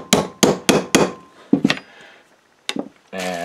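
Hammer blows drive a cutoff bolt drift with a notch into a Kohler Command engine during an oil pump upgrade: four sharp metallic strikes in quick rhythm, then a few lighter taps, close and loud.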